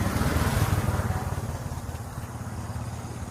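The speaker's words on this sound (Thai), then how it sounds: "นี่ก็จะเป็นเครื่องยันม่านะคะ" A Yanmar engine on a Thai E-taen farm vehicle runs nearby with a rapid, even chugging pulse that eases slightly in loudness as it goes on.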